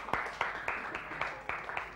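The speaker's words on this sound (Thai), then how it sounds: "ค่ะปรบมือเพื่อนหน่อย" Students in a classroom clap for a classmate, a short run of scattered, separate hand claps at moderate loudness with no talking.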